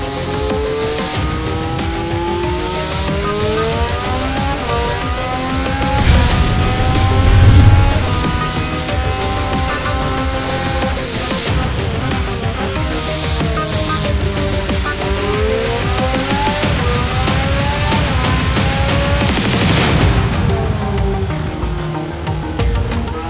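Renault V6 turbo hybrid Formula 1 engine accelerating at full revs, rising through gear after gear in loud, repeated sweeping climbs, with a high turbo whine above the roar and a brief louder burst midway.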